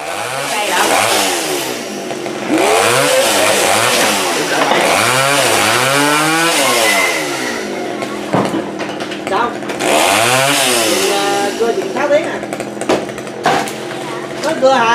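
A chainsaw cutting tree branches, its engine close and loud, rising and falling in repeated revving surges as it bites into the wood, with people talking intermittently over it.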